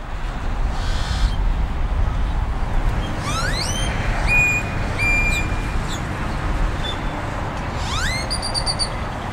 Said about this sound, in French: Attendez, c'est pas une alarme, ce sont des oiseaux?